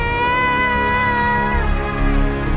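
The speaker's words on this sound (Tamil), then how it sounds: "ஒரு குழந்தையின் அழுகை சத்தம் கேட்டது" An infant cries continuously in a high, wavering wail, loud and close with no pauses, used as an effect in a narrated Tamil temple legend.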